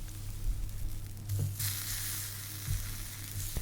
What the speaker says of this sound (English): These slices of eggplant are starting to look very good, so I think we can take them out of the pan now